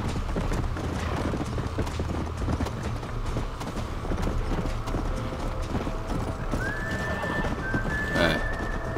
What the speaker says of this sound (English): Horse needs to move it